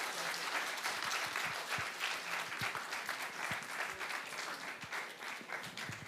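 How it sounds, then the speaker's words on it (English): An audience gives steady applause for guests after a Holocaust remembrance Q&A panel, a continuous even clapping from a moderate crowd in a hall. "let's give a round of applause to our guests"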